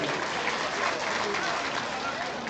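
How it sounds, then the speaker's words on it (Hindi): A crowd claps together to welcome guests at a road inauguration ceremony, a dense, steady burst of applause close by. "आप लोग उनका भी ताली बजाकर आप स्वागत कीजिए"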